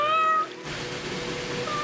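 Cats meowing in the video game Stray, with a clear drawn-out meow at the start and another rising at the end, close and fairly loud over a steady game-ambience background.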